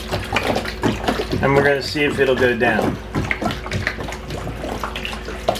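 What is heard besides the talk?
pouring a jug of water down a drain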